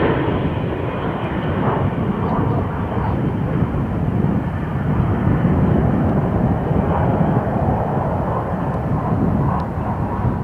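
Aircraft engine roar from a formation of three different aircraft types, including jets, at an aerobatic display: a steady, loud, broad rushing drone held throughout, with a slightly rising swell midway and no clear talk.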